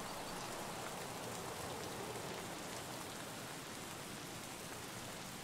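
Steady rain hisses evenly throughout, a dense continuous patter with no other sounds standing out, in the video game Escape from Tarkov on the Woods map.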